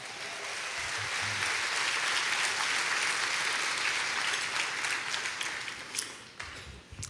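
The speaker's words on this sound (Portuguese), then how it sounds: "Você pode dar um aplauso a Jesus" A church congregation applauds in a sustained burst of dense clapping that holds steady for several seconds before thinning out near the end, filling the room at moderate loudness.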